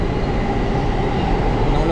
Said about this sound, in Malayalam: നമ്മളിനി ഇവിടുന്ന് എയർ ട്രെയിൻ പിടിച്ചിട്ടാണ് JFKക്ക് പോകുന്നത്.